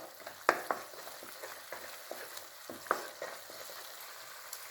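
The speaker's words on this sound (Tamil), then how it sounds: "இப்போ நல்லா வதங்கிடுச்சு தக்காளி." Tomatoes being sautéed in a pan for matar paneer, with repeated close spatula scrapes and clacks over a gentle, wet frying sizzle, fairly quiet and irregular.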